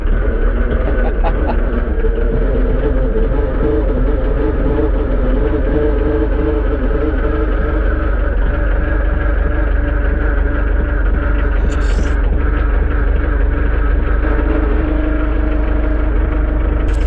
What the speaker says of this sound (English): the motor in this tractor for the LS is a 3-cylinder Mitsubishi diesel